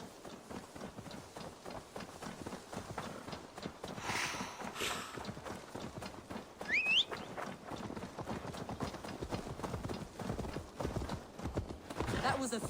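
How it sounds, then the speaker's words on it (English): Steady clip-clopping of horse hooves at a walking pace in Assassin's Creed Valhalla, with a short whinny and faint voices in the background. "Now to deliver Magni his horse."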